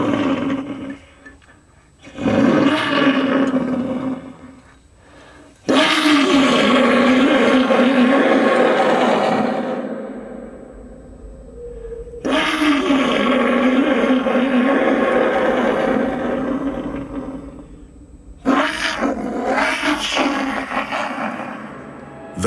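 Pututu, an ancient Andean conch-shell trumpet, blown to imitate a feline roar: several loud, rough, growling blasts with short gaps between, each swelling and fading like a big cat's roar.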